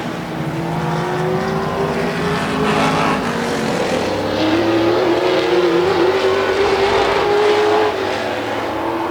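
Race cars roar through the final lap of a feature race: a loud, continuous engine drone with whining pitch that climbs and sweeps as the cars accelerate out of the turns, with several engines overlapping throughout.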